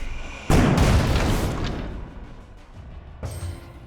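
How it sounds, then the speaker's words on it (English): A loud explosion booms in the tactical RPG Dunebound Tactics, hitting sharply and then rumbling away over about a second, followed by a second, smaller blast a few seconds later. "let's move away from the explosion"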